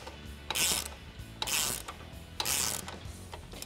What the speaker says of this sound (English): First, I'm going to tighten it down with a 21 millimeter socket and a hand ratchet.